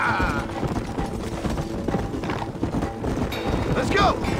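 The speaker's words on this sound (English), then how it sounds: "Get on your horses!" Horses gallop in the Red Dead Redemption video game, a dense steady rumble of hooves under loud mixed game sound with voices talking over it.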